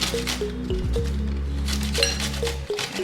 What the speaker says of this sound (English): we are almost done with our grating our okra